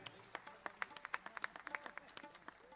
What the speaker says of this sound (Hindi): तो एक बार जोरदार तालियां अरविंद भाई के लिए